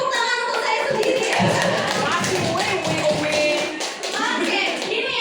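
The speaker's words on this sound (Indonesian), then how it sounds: "beri tepuk tangan untuk saya sendiri" Steady applause from a room of people at a teaching workshop, many hands clapping continuously and close by for several seconds, with some voices mixed in underneath.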